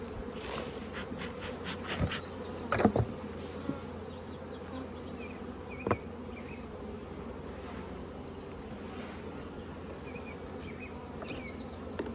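Steady buzzing of many honey bees at a hive fills the air, a continuous drone with occasional louder passes as individual insects fly near.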